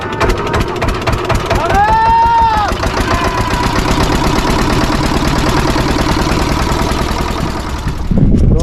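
A boat engine chugs steadily and loudly on a Sundarbans river at night during a fishing trip, its low rhythmic throb running unbroken throughout, with a brief rising tone early on and voices talking over it.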